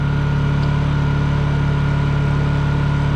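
A Honda EU2000i inverter generator at an off-grid cabin runs steadily at idle with eco throttle off, a loud, constant low hum and vibration holding without change throughout.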